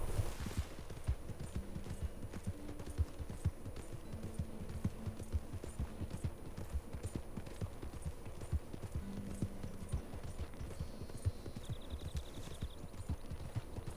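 Horse hooves in Red Dead Redemption 2, a steady walking clip-clop of repeated thuds running throughout at moderate volume, with faint game ambience behind.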